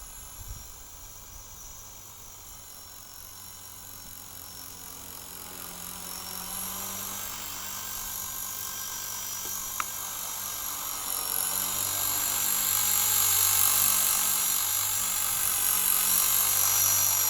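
A small RC helicopter runs at full throttle, its rotor and electric motor making a continuous high whine that rises and grows louder toward the end, with no voices over it.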